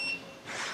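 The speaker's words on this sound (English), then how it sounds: "Now once you hear that beep, you'll want to then let go of the throttle." A single short, high electronic beep from a KTM eDRIVE Stacyc electric balance bike, signalling a speed-mode change, sounds at the very start, then fades into soft background noise.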